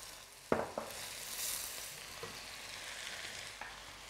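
Sweet corn fries in a pot for a corn and seafood chowder, with a steady sizzle under a few sharp clinks and scrapes from stirring. No voices are heard.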